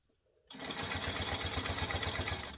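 A sewing machine starts up abruptly and stitches steadily while quilting with a ruler, a close, fast, even mechanical whir with a rapid pulsing rhythm throughout.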